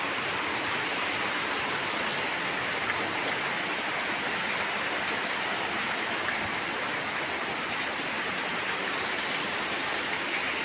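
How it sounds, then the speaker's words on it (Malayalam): Heavy rain pours down in Thrissur, Kerala, a dense, unbroken hiss of water striking roads and surfaces that holds steady and loud throughout, with no other sounds standing out. "ഇവിടെ നല്ല മഴയാണ്."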